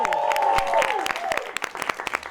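Audience at a live show applauding, a burst of clapping and cheering that starts loud and quickly thins into scattered individual claps.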